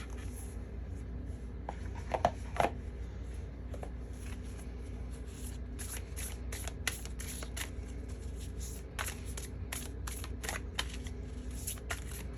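Tarot oracle cards are shuffled in a quiet room, a steady soft riffling with scattered sharper flicks and taps as cards slide and snap against each other, close and fairly faint.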